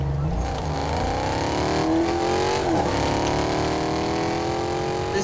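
A car engine in the video game Fortnite revs hard and accelerates, its pitch climbing steadily as it roars at close range.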